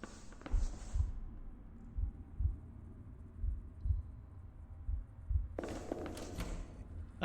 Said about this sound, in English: I think I just heard my character's heartbeat.